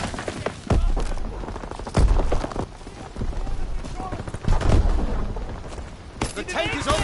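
Gunfire in a WW2 video game, with sharp shots and booming blasts scattered through a busy battle soundscape while a voice talks over parts of it.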